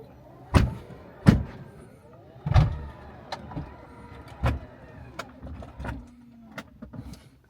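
The doors of a Tesla Model X six-seater close on their own: a series of motor whirs punctuated by several distinct thuds and latching clunks spread across several seconds, close by.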